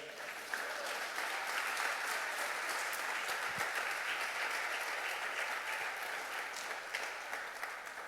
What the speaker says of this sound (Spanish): ¿Cuánto le podemos dar un aplauso al Señor?